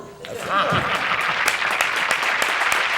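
A television crew at a 1986 telethon applauds, sustained clapping running throughout at moderate loudness, with some voices mixed in early on.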